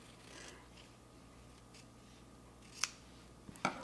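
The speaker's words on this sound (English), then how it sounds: "I'm going to cut these apart on the line, and you can do this with a rotary cutter or with scissors" Scissors cut apart stitched fabric for a quilt block of half-square triangles, producing a few faint snips and rasping strokes over a quiet room hum, with a cluster of sharper cuts near the end.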